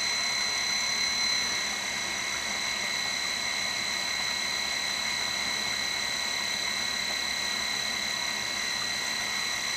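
A variable-speed swimming pool pump motor running at a reduced speed of about 2,094 RPM (35 hertz), a steady close tonal whine over a constant hum, unchanging throughout.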